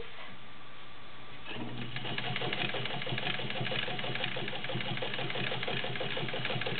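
A vintage Fleetwood zigzag sewing machine starts stitching after a quiet opening second, then runs in a steady, fast, even mechanical rhythm, close up and fairly quiet, with no talking.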